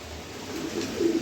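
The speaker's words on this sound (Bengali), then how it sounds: "তো বেহস এখন কবুতর দেখাবো" Pigeons coo softly in a low, brief murmur that swells slightly toward the end over a faint steady background hiss.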